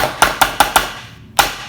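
Five sharp taps in quick succession, then a pause and one more tap, knocking fresh cheese out of a mould up close with no talking.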